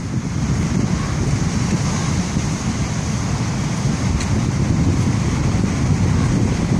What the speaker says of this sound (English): surf's about 12 foot today.